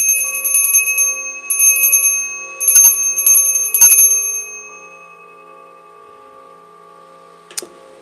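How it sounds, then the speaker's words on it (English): A small hand bell is rung in several bright, clanging bursts of rapid strikes, loud and close, then left to ring out and fade, with one last faint tap near the end. "I'm gonna ring the bell because I gotta clear the energy."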